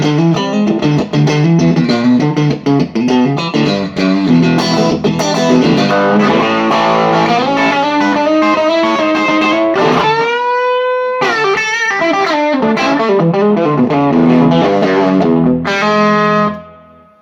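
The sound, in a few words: electric guitar through modded Fender Blues Junior amp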